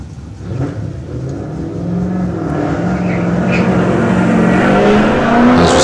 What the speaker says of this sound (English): As we see the Mark II Escort of Sean Stingers now making its way up the hill.